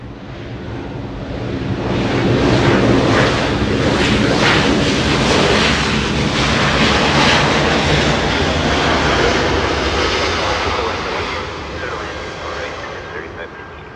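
A Delta Boeing 777 takes off from runway 24 left at LAX, a loud, sustained jet engine roar that swells and holds with a broad rushing quality before easing slightly toward the end, with talk faintly underneath.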